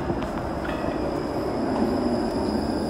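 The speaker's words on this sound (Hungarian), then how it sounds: "Már itt van a villamos." A tram rumbles in close and steady for the whole stretch, a dense rolling rail noise with faint high metallic whine and no voices over it.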